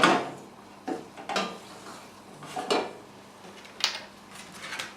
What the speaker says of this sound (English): Give it all a good stir so it's all mixed in nicely with the meat.